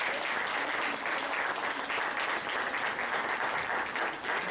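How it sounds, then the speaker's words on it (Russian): A crowd at a college arm-wrestling championship gives loud, sustained applause as a guest and his support group are invited on stage. It is thick and continuous at an even level, with no one talking. "И я хочу его под бурные аплодисменты пригласить на эту сцену с группой поддержки"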